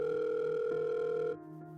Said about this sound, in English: He dialed a number quickly.